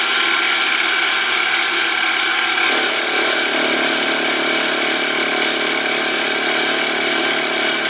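A milling machine cuts a slot into a .22 LR shell holder, giving a loud, continuous mechanical whir and grinding with a steady tonal hum; the pitch and texture shift slightly about a third of the way through as the cut continues.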